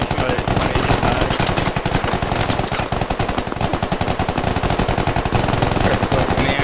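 Sustained rapid gunfire in the military shooter SquadOps, loud bursts of automatic weapon fire cracking in quick succession with barely a pause throughout.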